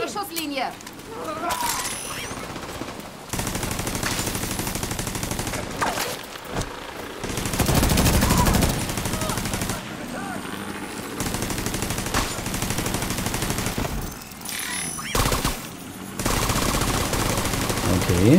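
Turret gunfire in The Division 2 during the Reign of Fire Bantam mission, with dense automatic bursts repeating across the clip, loud and close, alongside a speaker talking over the shooting.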